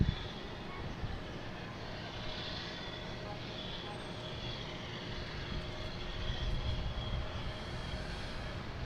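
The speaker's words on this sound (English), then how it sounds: "Our next taking off is Delta heading to Chicago. 737-800, flight 2570." A Delta Boeing 737-800 takes off at Boston Logan, a steady distant engine roar with a broad rumble that builds slightly toward the end, heard from outside with a voice talking over it.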